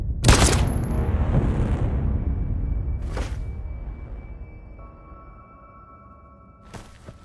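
Hank fires gunshots in Detroit: Become Human: a loud burst of rapid shots at the start, one sharp crack about three seconds in, and another near the end, each trailing into a fading boom with a faint electronic tone.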